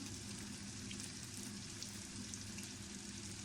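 Chaniya gosht meat frying in a pan, a steady close sizzle and crackle that continues evenly throughout with no talking.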